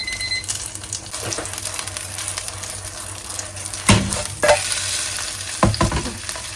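A Chiu Chow loofah pancake sizzles loudly in an oiled pan, with a steady frying hiss broken by several sharp spatula clunks and scrapes as it is turned and pressed.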